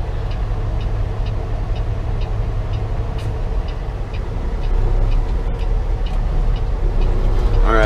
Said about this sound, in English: It's just a lot of perfectly spaced out traffic.